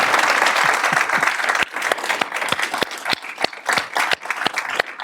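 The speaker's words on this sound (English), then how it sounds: "Let's give a big hand for Dave Barry." Big hand for author Dave Barry from an audience, dense crowd clapping that thins after a couple of seconds into scattered, sharper individual claps, fairly loud and near.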